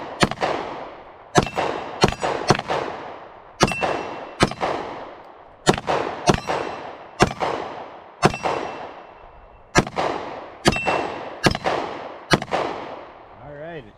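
Taurus GX4 pistol firing at an outdoor range, a string of sharp, loud gunshots in uneven groups with brief pauses, each report ringing out with a short echo.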